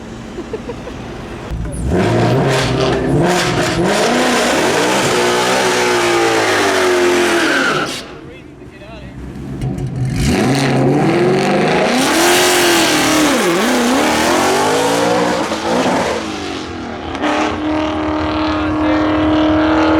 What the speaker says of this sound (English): do a little bit of burnout